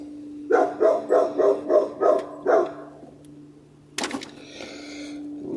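A blue pit bull barks six times in a steady rhythm at moderate distance, followed by a sharp knock and a low hum underneath.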